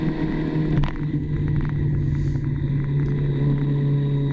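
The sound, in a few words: car engine pulling through a corner after downshifting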